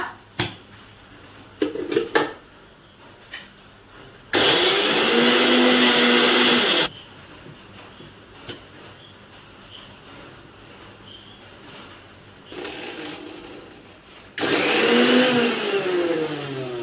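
A mixer grinder whirs loudly in two long bursts, separated by quieter clinks and handling noises, with a softer motor stretch between them.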